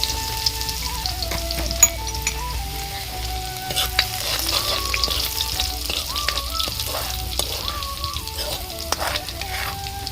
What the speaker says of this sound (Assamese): আৰু লগতে পিঁয়াজ আৰু জলকীয়া তেলত এনেকৈ ভাজি ল'ম।